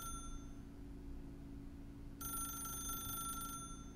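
A telephone rings in The Stanley Parable, a steady electronic ring held at low level over a constant hum, with a brighter, louder burst of ringing for about a second and a half near the end.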